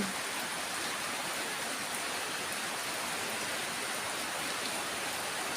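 Heavy rain in Korat pours down steadily in a dense, unbroken wash of noise, loud and close, with no voices over it.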